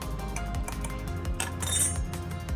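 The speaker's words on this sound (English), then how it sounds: "Give that a little stir" A scoopula stirring a chemical solution in a glass beaker during an ionic and covalent compounds lab, giving a series of light metallic clinks and taps against the glass, close and fairly quiet, without speech.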